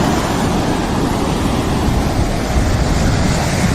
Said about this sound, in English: Oh, waves